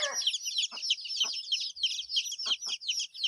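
Fighting-cock chickens, a Burmese gamecock breed, cluck and chirp in a continuous high-pitched chorus, with a few louder calls standing out nearby.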